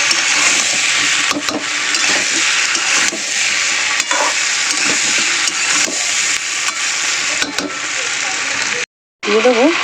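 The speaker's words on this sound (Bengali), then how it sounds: "এখানে এবার দিয়ে দেবো আদা রসুন পেস্ট। এটা একটু তেলের সঙ্গে ভেজে নেব," Ginger garlic paste fries loudly in hot oil alongside shrimp and jackfruit, a dense, near crackling sizzle with stirring scrapes that cuts off briefly near the end before resuming.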